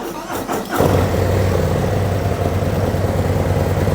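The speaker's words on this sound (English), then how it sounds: "press that start button down and the motorcycle will start" A 2024 Harley-Davidson Road Glide or Street Glide V-twin is cranked by its electric starter and catches quickly, settling into a loud, steady, rumbling idle close by, with no talk.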